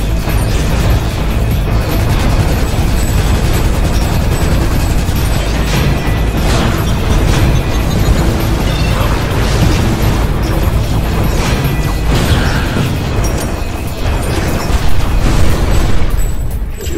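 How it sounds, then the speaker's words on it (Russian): Cannon fire and explosions from the video game Ratchet: Deadlocked, a dense, continuous stretch of loud booms, bursts and crashes running steadily throughout with no clear pauses. "Ой, больно бьет эта пушка."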